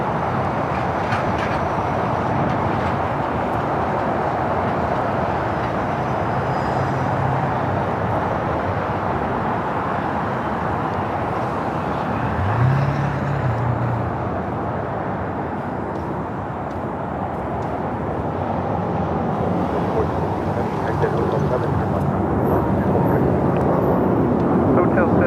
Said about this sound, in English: We got the Dreamliner heading to Tel Aviv up next for takeoff here on the south side.